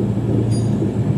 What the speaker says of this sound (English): That's quite a lot of trains around.